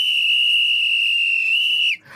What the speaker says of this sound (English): Can you blow the whistle already?